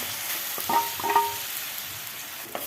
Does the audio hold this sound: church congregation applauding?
no